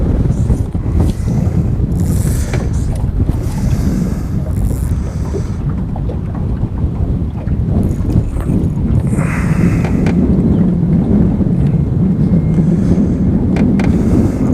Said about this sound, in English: with how windy it is, it's probably fairly hard to see that